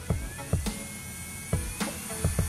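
A small electric nail drill from a MelodySusie 2-in-1 nail lamp set, rated up to 30,000 RPM, gives a thin whine under a few quiet clicks and taps, fairly soft and close.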